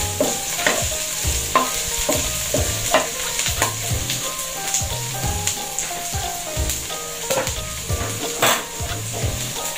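Onions sauté in a hot pan, giving off a steady close sizzle broken by regular scraping stirs and light knocks of the utensil against the pan, with no voices.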